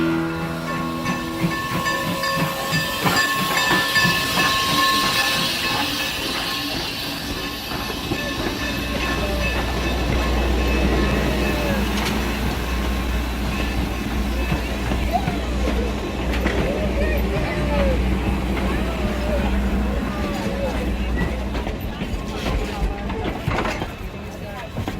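Norfolk & Western steam locomotive 475 standing with its train after a round trip, a steady loud hiss of steam with low rumbling and mechanical clanks, close by, with a narrator talking over it.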